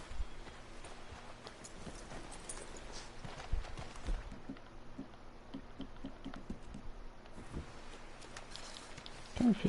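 Horse hooves clip-clop in Red Dead Redemption 2, a faint uneven run of soft thuds under low background ambience, with a brief louder sound near the end.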